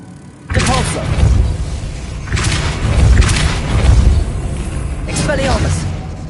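The Depulso force spell in Hogwarts Legacy fires as several heavy booming thuds, each a deep punchy blast with a brief rush, spaced unevenly across a few seconds.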